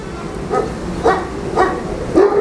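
A bully dog barks four times at an even pace, fairly close and loud, with a low background rumble between the barks.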